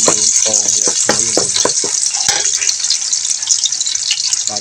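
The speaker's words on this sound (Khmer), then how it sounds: "ហើយឥឡូវយើងឃើញថាខ្លាញ់យើងក្តៅយើងចាក់ ខ្ទឹមចូលក្នុងបំពងវាឈ្ងុយ" Garlic frying in hot fat for a chicken stir-fry: a steady, loud, close sizzle and hiss that runs throughout, with a few brief voice-like sounds near the start.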